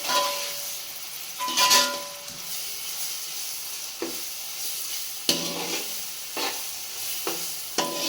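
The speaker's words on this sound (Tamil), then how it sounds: "75 கிராம் இஞ்சி, 75 கிராம் பூண்டு எல்லாம் சேர்ந்து ஒன்றா வதங்கட்டும்" Ginger and garlic, 75 grams each, sautéing in a pan for chicken biryani, with a steady close sizzle broken by stirring scrapes and clinks, no one speaking.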